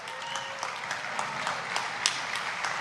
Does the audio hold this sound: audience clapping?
yes